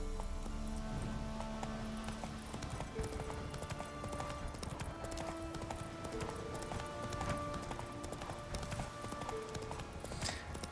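Roach the horse gallops in The Witcher 3, a rapid, continuous clatter of hoofbeats over a steady tonal game score, with no talking.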